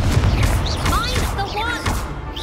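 A Confringo blast spell in the video game Hogwarts Legacy, heard as booming, explosive bursts with whooshing magical tones over a steady low rumble, continuous through the moment and loud against the game's background.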